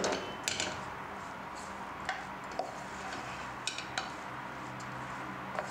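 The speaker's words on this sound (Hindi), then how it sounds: "इसको थोड़ा सा मिक्स करते हैं।" Keema being stirred in a pot, with sparse metal-on-metal clinks and scrapes of a spoon against the pot over a low steady background, close and fairly quiet.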